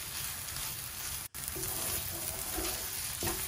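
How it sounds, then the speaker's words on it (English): Prawns cooking in Goan balchao sauce, a dense continuous sizzle and bubbling close up, with one sharp momentary break and no talking. "adding prawns straight in the sauce"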